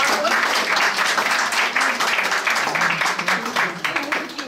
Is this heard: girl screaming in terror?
no